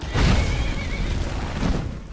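A unicorn whinnying in Skyrim Anniversary Edition, a loud, close, drawn-out neigh against a noisy outdoor game background, with a second burst near the end.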